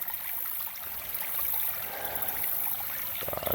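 A small waterfall spills into a creek at a gold-prospecting site, giving a steady, close rushing and trickling wash with no talk.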